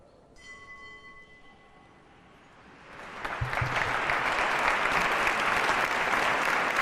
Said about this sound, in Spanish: La Asamblea aplaude también